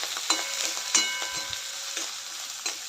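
Onion and curry leaves sauté in hot oil in a pan, giving a steady crackling sizzle with sharp pops and occasional stirring scrapes, close and continuous.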